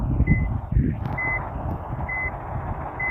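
Reversing beeps from a modded truck in a driving game sound in four evenly spaced electronic tones over a steady low engine rumble, fairly close and clear.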